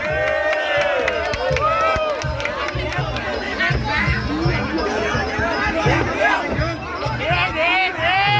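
A Muay Thai fight crowd roars and cheers loudly and continuously, with rising bursts of shouting over a dense babble of voices and some sharp whistles.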